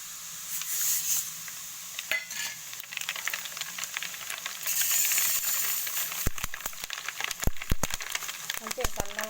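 Cumin and mustard seeds fry in hot oil for mango pickle, a hissing sizzle with stirring scrapes and a run of sharp clicks and pops in the second half, while a voice talks at times.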